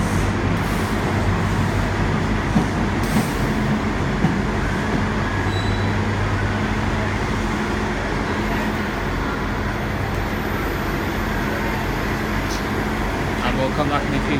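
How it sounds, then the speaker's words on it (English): Cross-country train leaving Exeter St David's for Plymouth, a continuous loud engine drone with a steady low hum and broadband rumble filling the platform, holding level throughout. "train now leaving. It's the 11:43 cross-country service to Plymouth"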